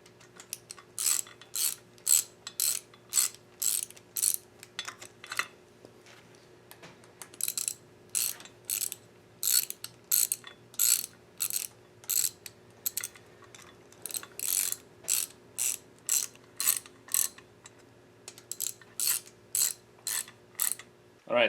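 A hand ratchet clicks in steady, rhythmic bursts while snugging the bolts of a Subaru coolant crossover pipe, each stroke a quick run of metallic pawl ticks, with short pauses between sets.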